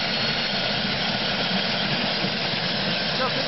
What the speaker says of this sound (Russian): Вертолет заправляется.